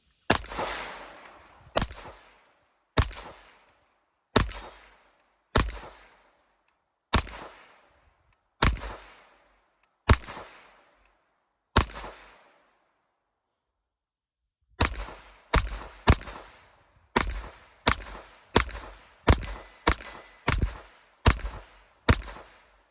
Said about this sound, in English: Let's go ahead and take our time, see if we can do a few more accurate shots.